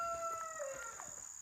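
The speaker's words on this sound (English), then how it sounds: "You hear my rooster?" A backyard homestead rooster crows faintly in the distance, a single drawn-out call under steady insect-like hiss in a garden setting.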